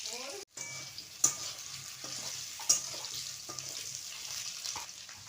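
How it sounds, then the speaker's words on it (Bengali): Potatoes frying in a pan in a village kitchen, a continuous hot-oil sizzle with occasional sharp clinks and stirring knocks, fairly close and steady throughout. "আলুগুলো এরকম লাল লাল করে ভেজে নিতে হবে।"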